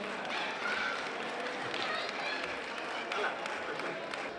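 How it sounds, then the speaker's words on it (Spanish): Applause from diners honoring the Tres Caminos dinner staff at a festival supper of the Peña El Portal in Barbastro, steady dense clapping with crowd noise filling the room for several seconds. "Un aplauso para ellos también y a todo el equipo."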